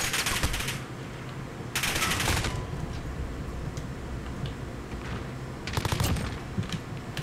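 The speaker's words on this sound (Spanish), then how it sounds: "Wow, pero ¿qué es eso? Ese tiroteo." A distant shootout with repeated bursts of rapid automatic fire, rattling at a steady pace over constant background noise, with louder clusters near the start, in the middle and toward the end.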